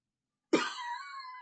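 A single sharp cough bursts out after half a second of silence, close and fairly loud, with a short raspy tail trailing off.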